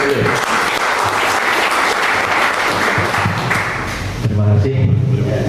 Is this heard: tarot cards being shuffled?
no